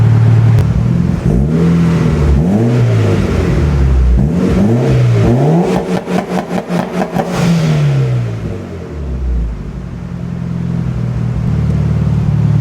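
A Mitsubishi Lancer Evolution 8 engine warms up, revving up and down in repeated rising and falling bursts, then settling into a steady idle; loud, close and without speech.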